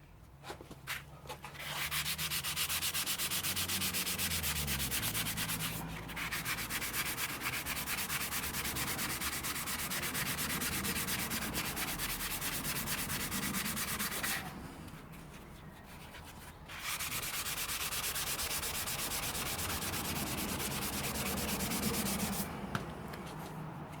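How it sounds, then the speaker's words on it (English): A polishing pad rubs back and forth against a steel engine case in a long, close scrubbing hiss that dips briefly twice, with no one talking. "Maybe next some of these polishing pads, see whether these actually clean it up."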